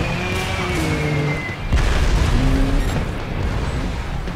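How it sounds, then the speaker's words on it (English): Explosions in the motorcycle stunt game Trials Evolution: a steady, dense rumbling boom with a sharper burst near the middle, loud and continuous under game sounds, with no talk. "Stupid explosions, they distract me."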